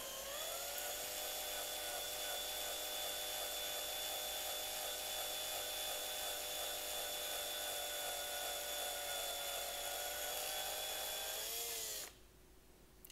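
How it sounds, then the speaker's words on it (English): A small drill bit bores steadily into the rivet hole of a Hot Wheels Nissan Skyline LBW die-cast toy car, producing a continuous high whine that runs close and loud for about twelve seconds before cutting off abruptly. "drill straight into that same hole"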